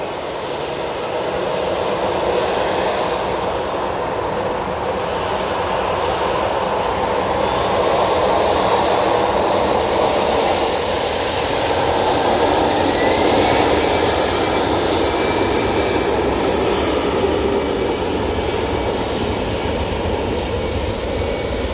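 An airliner takes off full length at Manchester Airport, a loud, broad jet engine roar that swells and builds to a peak with rising whine, heard outdoors at a distance without speech.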